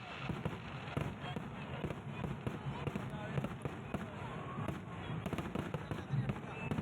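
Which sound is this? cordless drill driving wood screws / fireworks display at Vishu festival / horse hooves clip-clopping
fireworks display at Vishu festival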